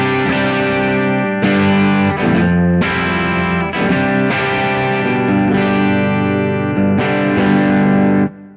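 Guitar driven through a Thorpy FX Warthog distortion pedal with its gain knob raised for a mid-heavy overdrive; a steady run of loud, close, sustained chords with regular restrikes over several seconds, ending abruptly, no talking.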